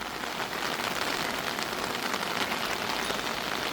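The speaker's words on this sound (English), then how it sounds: "watching the rain, and listening to the sound of water" Steady rain pours down on a hard surface in Shuzenji, Japan, heard from a shelter, a dense, even patter that continues throughout and cuts off abruptly at the end.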